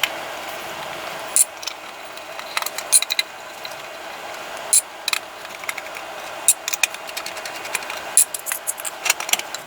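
Screws are backed out of the underside of a Creality CR10 3D printer, giving quiet, intermittent clicking and ratcheting ticks in short irregular clusters over a low, faint background.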